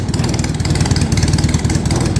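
A small engine running with its choke left on after starting, loud and close with a rough, rapid pulsing chug that holds a fairly even but uneven-edged beat throughout.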